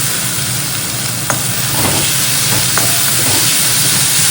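Ingredients are stirred in a cooking pan for a rice dish, a loud constant hissing sizzle with brief spoon scrapes rising now and then above the steady roar.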